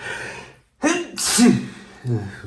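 A single sharp human sneeze bursts out after a short silence, close and loud, followed by a quick breath and talking in Ukrainian.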